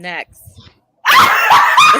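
A pet dog barks loudly and continuously in the second half at close range, following a person calling out over a short quieter stretch.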